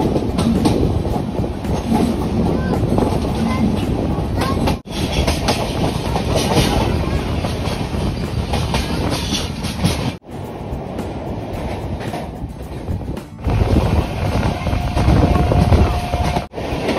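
Train pulling out of Old Delhi railway station, heard from on board as a loud continuous rumble with rhythmic clickety-clack of wheels over rail joints and a few brief drops in the noise.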